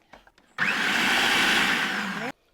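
A food processor whirs loudly and steadily as olive oil is poured in to blend pesto, running continuously for almost two seconds before it cuts off abruptly.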